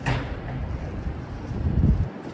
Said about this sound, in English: It is a very, very windy and cold night out tonight